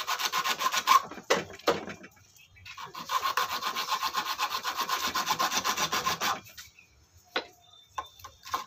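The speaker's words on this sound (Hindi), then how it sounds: "आरी पत्ती थोड़ा पुराना हो गया इसलिए देरी से कट रहा है।" An old, worn hacksaw blade cutting behind a bike side mirror gives steady rhythmic back-and-forth rasping strokes, close and fairly loud, pausing briefly before the sawing resumes, then a few sparse knocks near the end.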